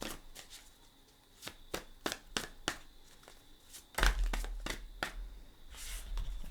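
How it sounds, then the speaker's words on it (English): Tarot deck being shuffled by hand, a series of quick riffling card snaps in irregular bursts, close and fairly quiet, with a louder flurry of shuffling near the end. "I don't know why I'm still shuffling."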